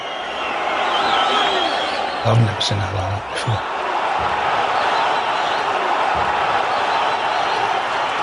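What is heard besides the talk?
boxing arena crowd cheering during ring walk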